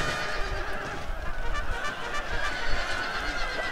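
A horse neighs loudly in a Shogun 2 battle, its whinny ringing out over dense, continuous battlefield noise and clip-clopping hooves.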